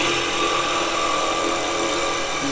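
Steady, loud whirring hum of a 1 inch bowl gouge cutting a tenon on a spinning live edge ash bowl at the lathe, continuous throughout with no pauses.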